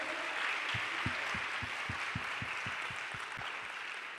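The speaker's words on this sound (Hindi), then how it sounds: "क्या हम वर्शिप टीम को जोरदार तालियों के साथ अप्रिशिएट कर सकते हैं?" Soft, distant applause from a church audience after a worship set rolls on steadily, with a series of low, regular thumps pulsing beneath it, fairly quiet overall and with no speech.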